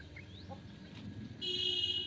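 A hen clucks faintly over a low, steady background rumble, a few short calls in the first second, then a sustained bright tone swells in near the end.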